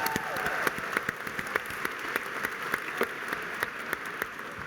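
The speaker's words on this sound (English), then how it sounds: "Let's have another round of applause for all our rookies" An awards-ceremony audience applauds the rookies, with steady, even clapping that runs throughout at a moderate level.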